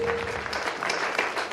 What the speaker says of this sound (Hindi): एक बार इनके सम्मान में भी जोरदार ताली बजना चाहिए।